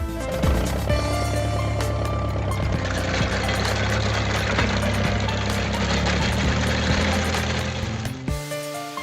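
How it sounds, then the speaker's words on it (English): A toy tractor with a potato harvester runs its engine with a steady knocking, humming drone that holds loud and even for about eight seconds, then cuts off abruptly. "Tractor with potato harvester."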